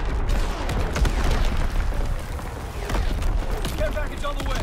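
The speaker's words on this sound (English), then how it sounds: "Incoming enemy artillery." Incoming enemy artillery in the World War II shooter Call of Duty: WWII arrives as a continuous barrage of booms and crackling gunfire, loud and dense throughout.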